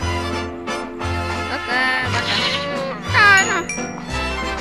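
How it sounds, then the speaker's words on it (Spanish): Goat bleating repeatedly with wavering, nasal cries, fairly close and loud, with a few overlapping calls and faint jingling in the background. "Y es cabra."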